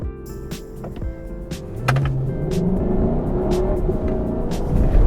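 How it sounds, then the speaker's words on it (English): A 2019 Lexus LC 500 engine rises in a revving climb with a gear-shift blip in Port Stephens, loud and close, with a truck rumbling nearby and sharp clicks over the steady drone. "You heard it just there, blip between gears."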